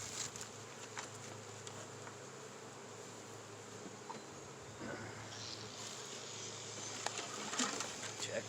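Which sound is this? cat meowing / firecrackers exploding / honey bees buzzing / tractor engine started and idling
honey bees buzzing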